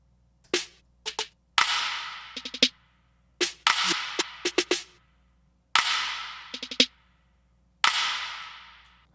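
Snare loop built from a Hero snare layered with Knock Clipper and Crystalline processing: sharp, crisp hits in a syncopated pattern, each with a bright noisy tail, alone and fairly loud.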